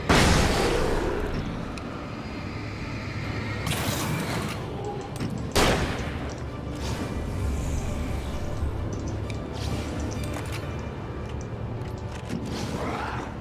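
Shotgun fire in the video game Alan Wake: a few sharp, loud blasts ring out over a dense, rumbling game backdrop, with one especially heavy bang near the middle.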